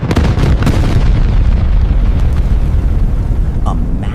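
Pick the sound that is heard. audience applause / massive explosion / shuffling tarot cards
massive explosion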